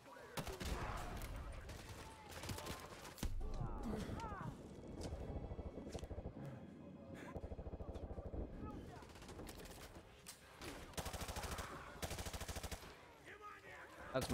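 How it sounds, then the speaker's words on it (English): Gunfire in the Modern Warfare 2 Remastered campaign at the White House: rapid automatic bursts and scattered shots crackle almost nonstop, with heavier blasts from a grenade launcher mixed in, a dense close firefight with a voice talking in places. "get the grenade launcher ready. There's about 5 or 6 enemies in there. So let's grenade launcher them."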